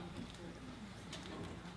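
Pigeons or doves coo softly in a played video, low repeated murmuring calls mixed with a broad hiss and room noise.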